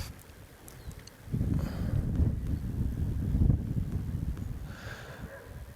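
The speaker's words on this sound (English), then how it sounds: "When we get a gust of wind, we're getting all those little vortexes on the water." Wind gusting across a small still-water lake in winter, at a fly-fishing spot: after a quiet second, a low, steady roar of wind buffets the microphone and keeps rumbling to the end, with no one talking.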